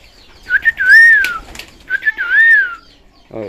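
Pigeons flocking in from outside to be fed in a yard: loud, close whistling calls in two long phrases, with a brief flutter at the end and no speech.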